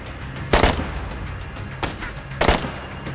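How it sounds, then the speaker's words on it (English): Gunfire in the video game DayZ comes as three sharp, loud shots spaced about a second apart, each with a short echoing tail over a steady background of noise. "so prepare for a gunfight."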